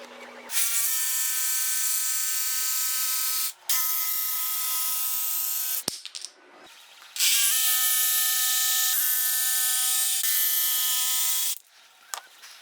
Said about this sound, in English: then we'll jigsaw out our notches